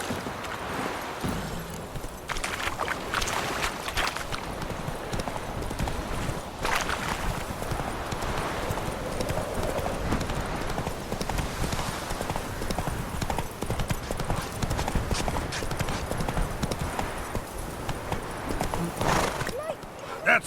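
Roach, a horse in a video game, gallops with steady rapid hoofbeats over rushing wind, and brief whinnies come through as a voice talks over the game sound.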